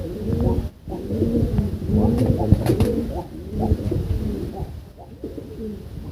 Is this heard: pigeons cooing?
yes